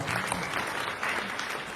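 A small audience breaks into steady, moderate applause for a woman at a tech event, brief dense clapping with no voices over it.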